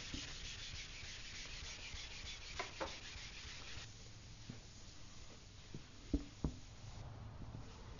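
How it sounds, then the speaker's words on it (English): A red or gray scuff pad rubbed across a car body panel to prep the surface before wiping, giving a steady, close scratchy abrasion with brief louder strokes and pauses, alone without voices. "all you need is a scuff pad"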